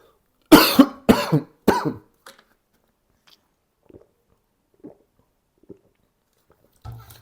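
Three sharp, close coughs in quick succession, followed by a few faint small sounds and a soft breath in near-silence.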